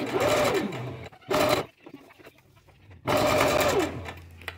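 Sewing machine stitching swim fabric for a swim skirt, running in two loud sustained bursts with a short stop between them and a quiet pause before the second long run.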